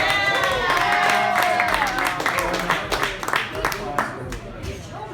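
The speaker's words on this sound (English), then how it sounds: "give a round of applause to everybody that has been here" A round of applause breaks out for the competitors at a Woodford Reserve Manhattan cocktail competition, dense clapping from a crowd that thins into scattered claps, with a voice speaking over it.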